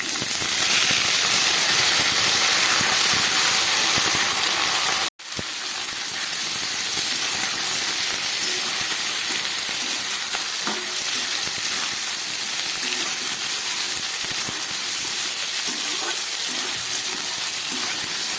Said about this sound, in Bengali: এই সবজিগুলোকে একটু ভেজে নিচ্ছি।